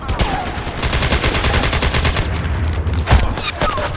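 Dense, continuous gunfire rattles through a firefight in the online shooter MAG, with overlapping bursts and automatic fire filling the whole stretch and a sharp louder shot near the end.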